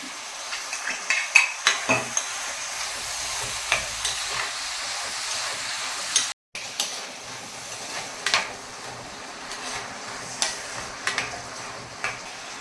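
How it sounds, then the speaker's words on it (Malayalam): Bitter gourd curry with shallots and salt being stirred as it fries, a soft sizzle beneath repeated scraping and clinking of a spoon against the pan, with one brief dropout midway. "എല്ലാം കൂടെ ഇളക്കി കൊടുക്കുക."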